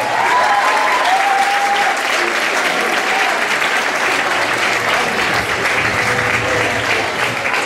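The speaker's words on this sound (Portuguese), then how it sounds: "Uma salva de palmas para eles," An audience at a Portuguese circus show applauds loudly and steadily, a dense wash of clapping that fills the whole stretch, with a faint voice briefly audible near the start.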